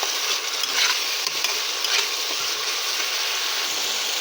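White mustard paste thinned with water being stirred and sautéed in a wok, a soft continuous sizzle with light scraping strokes of the spoon, close and steady with no voices.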